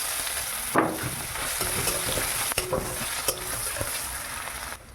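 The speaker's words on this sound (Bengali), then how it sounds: "শুকনো লঙ্কা, তেজপাতা, এবার ছেড়ে দেবো পেঁয়াজ কুচি।" Chopped onion frying in hot oil with dried red chilli and bay leaf, a steady sizzle with occasional stirring clatters of a spatula against the pan, close and continuous.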